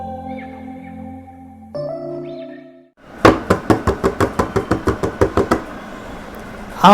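A quick run of about a dozen sharp knocks, close and evenly spaced, comes after a few seconds of quieter tonal background and stops abruptly.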